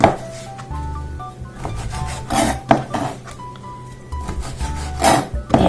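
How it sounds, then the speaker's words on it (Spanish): A knife cuts the tips off a stack of corn tortillas on a wooden cutting board while soup strips are prepared, giving a series of close, dry scraping and rubbing strokes with a few sharper taps, heard alone. "Otra manera más rápida también de cortar es que vamos a cortar las puntas."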